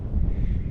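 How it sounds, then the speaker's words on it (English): Wind buffets a handheld phone microphone on open Dartmoor moorland during a wild camping hike, a short loud low rumble that fills the moment with no voice. "the wind is coming directly towards me"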